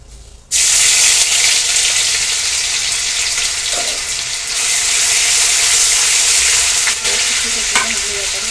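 Ginger-garlic paste hitting two spoons of hot oil, bursting into a loud, dense, continuous sizzle after a brief quiet start, with a few faint spatula touches, close up.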